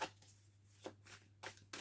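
Oracle cards shuffled by hand during a reading, a few soft papery riffles and flicks spaced apart over a low steady hum, fairly quiet.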